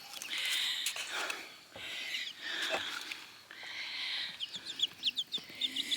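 Two-week-old chicks, American and Easter Egger, moving into a new home under a heat lamp, with a continuous chorus of high, close peeping that breaks into quick chirps near the end.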